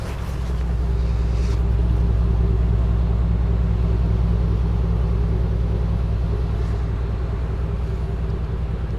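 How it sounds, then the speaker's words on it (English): A Sunseeker Manhattan 68 yacht's bow thruster runs while the boat is docked, a loud, steady low rumble with a droning whine that holds for several seconds without talk. "We just use a little bit of our bow thruster here."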